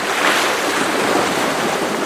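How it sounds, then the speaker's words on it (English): River water flows in a dense, steady rushing wash, broad and continuous like surf, close and loud with no voices. "That is the sound of the river"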